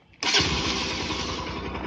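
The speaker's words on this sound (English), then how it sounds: "now I am going to quickly crank the engine" A motorcycle engine is cranked and catches at once with a sharp burst, then settles into a steady, loud, throbbing idle close by, with no talking.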